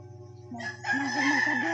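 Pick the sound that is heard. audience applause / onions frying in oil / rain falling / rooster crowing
rooster crowing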